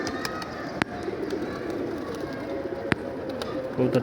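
Pigeons coo softly and repeatedly against a steady background hum, with a couple of sharp clicks.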